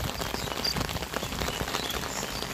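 Rain falling steadily in a rural Nepali village during an autumn downpour, a dense, even patter on surfaces with no voices.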